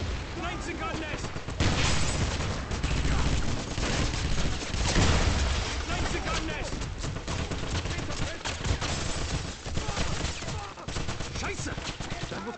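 MG-42 machine gun fire in the Wolfenstein video game, dense rapid bursts and explosions in sustained combat, loud and continuous, mixed with shouting voices and game sound effects.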